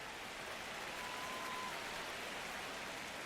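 Crowd in the baseball video game MLB The Show, a dense, even wash of cheering and applause-like noise at low, constant level, distant and sustained with no distinct voices standing out.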